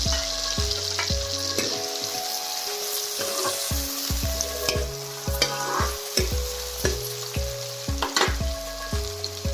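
Brinjal frying in a pan with ginger, garlic and green chillies for a village-style curry: a steady hiss of frying with intermittent stirring scrapes, and tonal music playing underneath.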